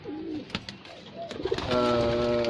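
Racing pigeon cooing up close, soft throaty coos and rustles early on, joined by a steady tonal hum in the latter half.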